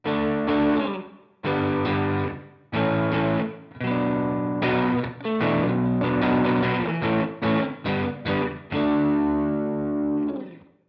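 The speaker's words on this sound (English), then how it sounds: "That's with our overdrive." An electric guitar through an overdrive pedal plays loud chords and riffs in several bursts separated by short pauses, with a gritty, distorted tone.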